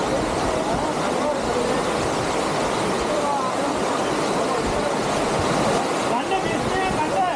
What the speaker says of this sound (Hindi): वाटरफॉल देखो, नजारे देखो यहाँ से।